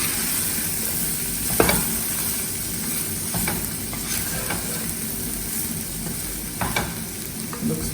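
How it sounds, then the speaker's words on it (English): A spoon stirs red Kashmiri chili powder into a sizzling pan of methi, gobi, aloo and matar sabzi, with continuous frying hiss and occasional scraping clinks of the utensil against the pan. "then we stir"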